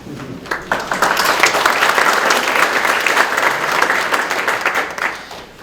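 Audience applause for a group of Nordic fiddlers at a Syttende Mai celebration, dense clapping starting a little ragged and swelling into steady, sustained applause throughout.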